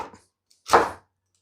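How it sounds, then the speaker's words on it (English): A kitchen knife chops through a celery stalk on a cutting board, with one faint light cut followed by a single crisp, close chop, then silence. "we're gonna chop this up, basically cut the celery stalk in half and then chop it from there"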